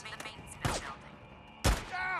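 Gunfire in the video game Days Gone, two sharp bursts of shots about a second apart, with a voice speaking between them.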